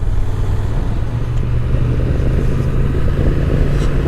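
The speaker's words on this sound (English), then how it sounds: "I do like the tone of that engine. Really does sound good." A 2023 Honda Transalp motorcycle engine running at low revs around 2,000 to 2,500 RPM, a loud, steady, slightly rough rumble heard up close and continuous throughout, with no voices.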